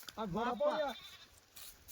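A Kathiawari goat at a goat-rearing farm in Beed lets out a single short, wavering bleat close by, which is followed by quiet.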